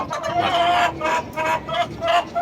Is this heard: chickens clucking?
yes